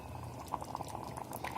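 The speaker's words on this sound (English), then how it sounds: "Now allow this mixture again to boil." A vermicelli and water mixture boils inside an electric kettle, with soft steady bubbling and small popping bursts throughout, close and moderately quiet, with no voices.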